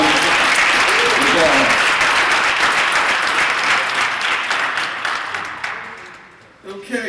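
A large audience applauds Chaplain Barry Black after his oratory remarks, loud sustained clapping that fills the hall and gradually tapers off near the end.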